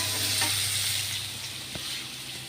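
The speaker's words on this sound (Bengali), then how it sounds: "এই গ্যাসে একটু ভেজে নিই" Food fries on a gas stove for a Bengali bharta, making a soft, steady sizzle close by with a couple of faint stirring taps and no voices.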